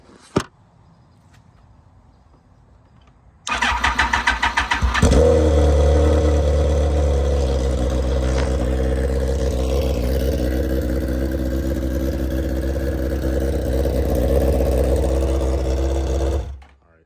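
A 2005–06 Suzuki GSX-R 1000 motorcycle cranks with a rapid starter chatter, catches and settles into a loud, steady idle for over ten seconds, then shuts off abruptly.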